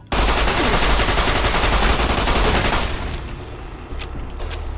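Sustained automatic gunfire in Fallout: New Vegas, a dense loud volley of rapid shots for about three seconds, then tapering into scattered sharper cracks and lower rumble.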